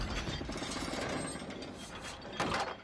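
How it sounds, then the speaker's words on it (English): Chandelier being hoisted by a creaking pulley and ratchet mechanism in the Uncharted 4 video game, a continuous mechanical clicking and grinding over roughly three seconds, moderately close with no speech. "Step two. Raise the chandelier."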